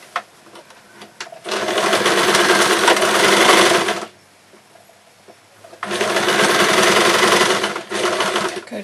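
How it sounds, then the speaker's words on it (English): Sewing machine stitching a foam baby puppet's arm in at the shoulder, two loud steady runs of several seconds each separated by a pause of near silence. "we're going to sew that last arm in"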